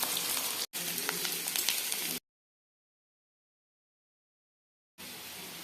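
Onion and vegetables hiss steadily in hot oil, a close and even sizzle that cuts out into total silence for nearly three seconds before resuming.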